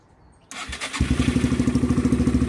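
A Yamaha TW 125cc motorcycle starts after a brief crank, catching about halfway through and settling into a loud, steady, rhythmic idle close by.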